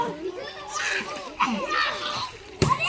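Splashing in a resort swimming pool during a family picnic, short sloshes and splats mixed with children's chatter and voices close by.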